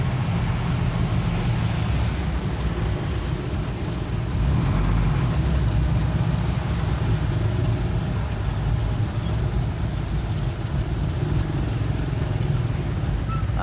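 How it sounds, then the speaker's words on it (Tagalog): Heavy road traffic of cars and buses in a long jam heading to Valenzuela, a steady loud rumble of engines with no clear breaks throughout. "Ang tindi na traffic"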